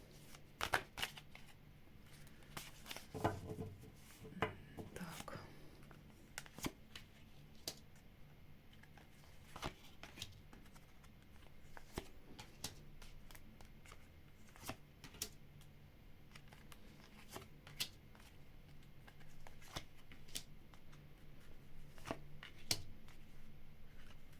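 Large paper maps being shifted and rustled on a desk, a run of crisp crinkles, flaps and taps, close and moderately loud, scattered irregularly throughout with no talking.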